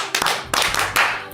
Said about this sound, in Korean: 자, 박수 5번 시작!